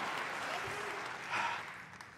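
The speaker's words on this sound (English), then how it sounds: "The crowd is as vocal as ever expected." Audience applause at a BlizzCon panel for World of Warcraft: The War Within, a dense, steady wash of clapping from a large crowd filling the hall, with a brief swell near the middle.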